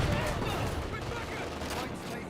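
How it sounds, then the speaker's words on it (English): Panzer Grenadiers firing in Company of Heroes 2: continuous rattling small-arms fire at moderate distance, steady and dense under a noisy battle background. "Got the Panzer Grenadiers firing away"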